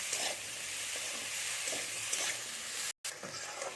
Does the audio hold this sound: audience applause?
no